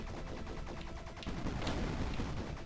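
Rapid gunfire from a weapon in the video game Bleed, dense overlapping shots in a continuous close, loud burst.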